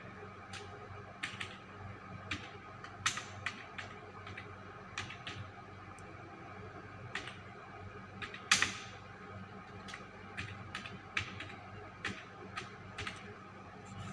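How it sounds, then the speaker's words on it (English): Keys tapped on a computer keyboard in short, irregular bursts of clicks over a quiet room hum, close and fairly soft, with no talking. "Like suppose I am going to type the text."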